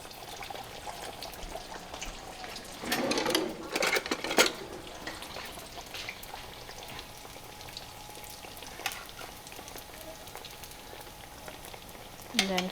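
Hollow Asian donut dough frying in hot cooking oil over medium-high heat, a steady crackling sizzle with louder bubbling and clattering bursts near the start and a brief clink at the end.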